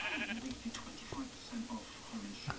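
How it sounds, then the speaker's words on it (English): Several sheep in the video game Minecraft bleat in short repeated calls close by, overlapping one another in quick succession. "There's so many sheep!"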